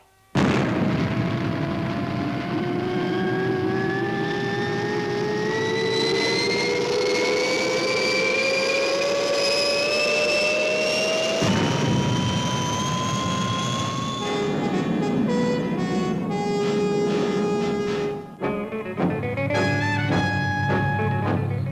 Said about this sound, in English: Ready for liftoff. All systems read green, XL5. Blast off!